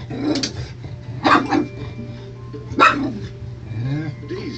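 A full-grown bull mastiff mother guarding four newborn puppies barks in a few short bursts over a steady low hum, with other sounds in the background.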